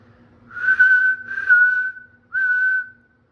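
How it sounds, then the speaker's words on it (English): A person whistles high-pitched to an emu egg on day 34 of incubation: three close, sustained whistled tones, with two quick back-to-back notes followed by a short pause and a third, in an otherwise quiet room. "my whistle's horrible, but you want to do it kind of high pitched"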